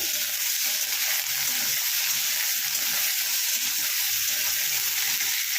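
Sliced potatoes sizzle steadily in oil in a pan, a close, continuous hiss with soft crackling and faint stirring, uninterrupted and without talk.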